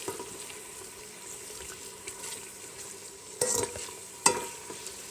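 Chicken sizzles quietly in a pan with garlic, ginger and green chili paste, with a steady low fry and two sharp scraping stirs of a spoon near the end.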